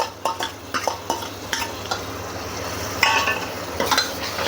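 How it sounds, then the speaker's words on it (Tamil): Ginger garlic paste being stirred into mutton keema frying in a cooker, with repeated spoon scrapes and knocks against the metal over a low sizzle, close and fairly loud. "இஞ்சி பூண்டு போட்டு நல்லா மிக்ஸ் பண்ணணும்."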